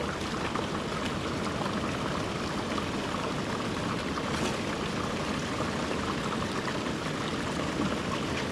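Steady rushing flow of water running through a gold sluice box at a prospecting outing on the Yuba River, a continuous close broadband wash with no talking.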